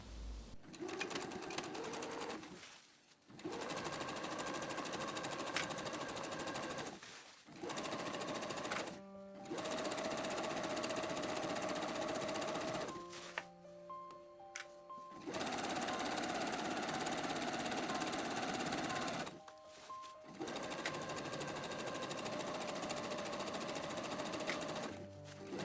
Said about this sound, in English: I will now sew these together with a simple straight stitch.